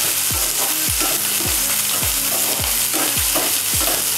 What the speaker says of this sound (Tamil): கொஞ்சம் எண்ணெயில் விட்டு வதக்கிட்டு நம்ம அதை அரைச்சிக்கிறோம்.